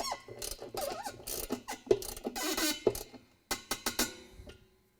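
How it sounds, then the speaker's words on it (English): A half-inch socket wrench ratchets in quick bursts of clicking as screws are tightened into a washer's inner tub, close and distinct, with short pauses between strokes. "Tighten them with the half-inch socket wrench."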